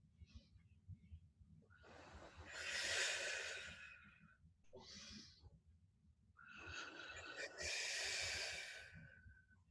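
Slow, deep breaths during a core mat exercise session, two long airy exhalations separated by a short breath, soft and close against a quiet background.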